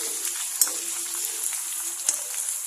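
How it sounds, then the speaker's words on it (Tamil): Crushed ginger, garlic, fennel and curry leaves with dried chilli and mustard seeds frying in hot oil, a loud continuous close sizzle with a couple of sharp pops and faint stirring, no talk. "பொரிஞ்சோடனே இதை போட்டுருவோம்."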